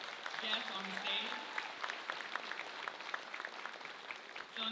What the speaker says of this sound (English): let's clap for our faculty and staff guests on the stage